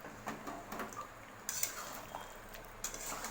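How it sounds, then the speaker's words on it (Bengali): A spoon scrapes and knocks against a pot while meat curry with potatoes is stirred, quiet intermittent clinks and scrapes with a few sharper metallic taps, no voices. "এখন নাড়াচাড়া দিয়ে নিচ্ছি"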